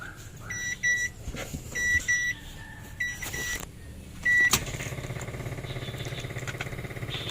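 Car engine with a knocking noise, the car used for shunting, losing engine oil and unable to rev high. Several short electronic beeps come first, then the engine catches and runs with a steady, fast rhythmic ticking close by.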